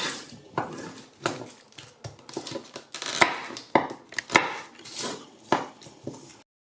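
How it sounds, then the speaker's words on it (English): Knife chopping onions and garlic on a board while making a vegetable risotto: irregular sharp close knocks, some in quick bursts, with small clatters of utensils and no talking. "So we need to chop 2 onions and 2 cloves of garlic"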